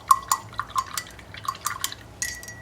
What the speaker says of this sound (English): Clean your brushes really well so you can use them again.